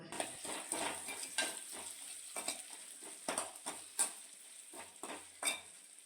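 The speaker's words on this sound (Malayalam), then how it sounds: "2 പച്ചമുളകും ഒരു മീഡിയം സൈസ് സവാള ക്യൂബായി അരിഞ്ഞതും കൂടെ ഇതിലേക്കിട്ട് ഇളക്കി കൊടുക്കാം" Green chillies and cubed onion are stirred in a frying pan while making dry-roast soya chunks, a soft sizzle under repeated scraping strokes of a spoon against the pan, close by with no talking.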